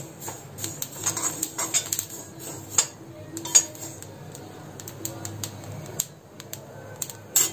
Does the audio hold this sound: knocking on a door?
no